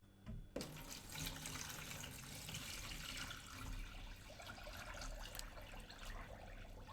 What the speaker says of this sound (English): And then you just pour the water on.